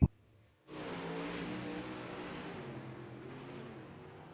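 A UMP modified race car lapping a dirt oval at The Dirt Track at Charlotte. After a short pause its loud, sustained engine roar cuts in and holds, easing slightly as it carries on.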